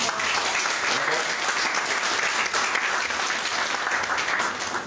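An audience applauds continuously, dense clapping that holds at a steady level throughout, with faint voices mixed into the crowd noise.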